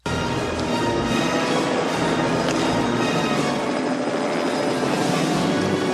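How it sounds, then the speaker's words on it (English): A real helicopter flies into a rocky gorge in a scene from the film First Blood, its rotor roar steady, loud and close throughout with no voices. "there is a real helicopter flying into this gorge"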